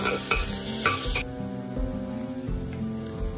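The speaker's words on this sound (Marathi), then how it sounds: "आता तेलात टाकायचं आहे कांदा." Chopped onion sizzles and fries in hot oil inside a pressure cooker on a gas stove, a dense continuous crackle with occasional scraping stirs from a spoon against the metal pot.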